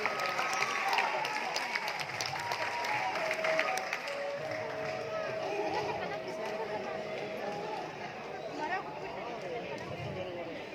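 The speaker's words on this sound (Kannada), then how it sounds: "ಎಲ್ಲರೂ ಜೋರಾಗಿ ಚಪ್ಪಾಳೆ ತಟ್ಟಿ ಕಾರ್ಯಕ್ರಮವನ್ನು ಇನ್ನಷ್ಟು ಚೆಂದ ಕಾಣಿಸ್ಕೊಂಡು" An audience claps at a drama academy award ceremony in Bengaluru. The applause is dense at first and then thins, with voices and hall chatter continuing underneath.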